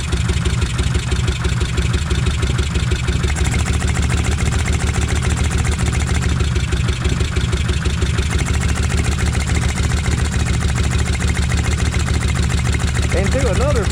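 Kawasaki Vulcan 1600 motorcycle engine idling with a loud, steady low rumble that continues throughout, close by, with someone talking over it.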